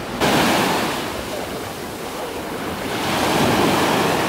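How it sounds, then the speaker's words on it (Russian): Sea waves break and wash into foam on a beach, a steady full roar of surf with swelling surges and some wind noise on the microphone, close and loud with no voices. "Как красиво море разливается пеной."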